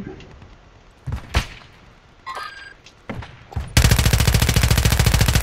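Video game gunfire: a few separate loud shots early on, then a rapid, steady burst of automatic fire hammering away for the last couple of seconds, with quieter game ambience in between.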